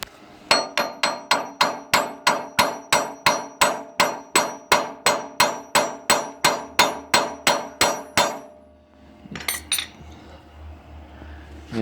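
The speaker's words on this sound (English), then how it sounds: "Give it a few taps with the hammer, it should come out." A hammer strikes a bolt on a 1993 Lincoln Town Car's front suspension in a steady, evenly spaced series of about twenty sharp ringing taps, followed by a brief clatter and a few scraping sounds.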